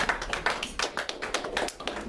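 A church congregation clapping together, a dense, fairly loud burst of rhythmic applause heard up close with no talking over it.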